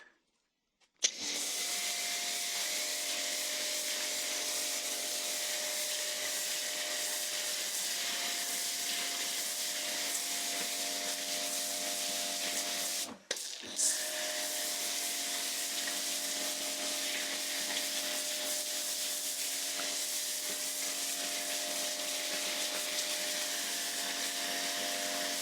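A Karcher pressure washer sprays Topaz snow foam in a continuous, even hiss with a steady motor hum, starting abruptly, cutting out briefly midway and then resuming.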